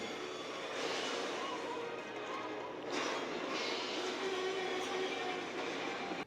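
A train in a film scene slows under locomotive braking, a steady loud rumble of rolling cars with a faint high brake squeal, alone without talk.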